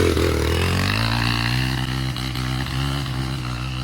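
A dirt bike engine drones loud and steady as it climbs a steep hill in fifth gear, a low harmonic roar whose pitch rises early and then holds, with brief dips in the middle.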